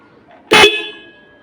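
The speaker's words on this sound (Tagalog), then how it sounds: "So busina ulit natin kung gaano kalakas, mga dalawang pindot lang" A Honda Beat scooter's relay-wired horn gives one sharp, loud, close honk that rings on briefly before fading.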